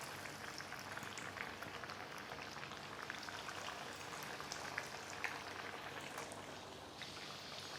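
Crispy chicken wraps frying in hot oil over a low flame, giving a dense, steady sizzle and crackle with a constant, even hiss throughout.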